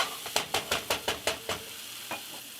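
Food sizzles in a pan while a utensil stirs it in regular scrapes, about seven evenly spaced strokes followed by one more after a pause, all close and with no voices.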